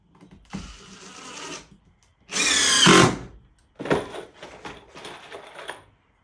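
A power drill drives screws into the wood of a two-person picnic table in several separate whirring bursts, one long and loud, the others shorter, with pauses between.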